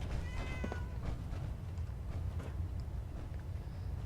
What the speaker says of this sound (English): I do approve of the fact they seem to have multiple cats aboard this ship. At least it sure sounds like there is.